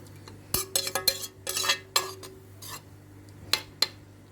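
A spoon stirs milk in a metal pot, scraping and clinking against the sides in several short bursts with quiet pauses between, close up and with no talk.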